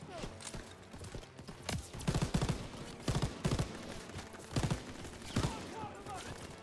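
Gunfire in the World War II shooter Call of Duty WW2, bursts of rapid shots coming in clusters of sharp cracks at irregular intervals amid battle noise, moderately loud.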